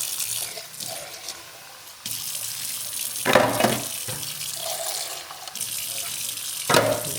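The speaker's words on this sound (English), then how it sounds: "Some always get stuck behind in this way, so just give them a rinse." Canned mixed beans are rinsed under a running kitchen tap. Water gushes in a few loud splashing bursts over a steady, quieter trickle, with no talking.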